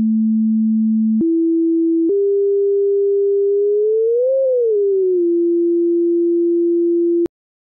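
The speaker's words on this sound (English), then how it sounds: "we hear a sine tone." Pure sine tone synthesized in PureData. A clean, steady, loud beep steps up in pitch twice, swells and bends briefly, settles, then stops with a click, with no other sound.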